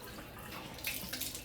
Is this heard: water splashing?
yes